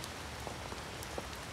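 Steady rain falls outdoors, an even, dense patter with a few louder individual drops landing nearby.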